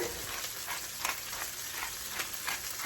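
Seasoned chicken breasts frying in olive oil in a pan, a steady close sizzle with occasional louder crackles and stirring scrapes, no talking.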